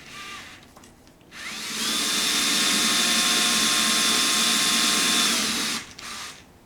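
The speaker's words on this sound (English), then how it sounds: "Let's drill some starter pilot holes at the 1/16." A power drill whines at a steady high pitch for about four seconds, close up, drilling 1/16-inch pilot holes in metal, with brief mechanical noises before and after.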